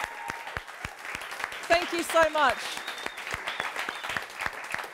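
An audience at a live talk event applauds steadily with a crowd of rapid hand claps, while a voice briefly speaks over the clapping.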